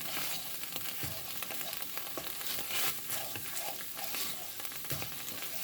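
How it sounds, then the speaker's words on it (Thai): Thai massaman curry paste stir-frying in a pan, giving a dense, continuous sizzle and crackle up close, broken by soft scraping strokes of a spatula. "คือต้องผัดพริกแกงให้สุกนะคะ"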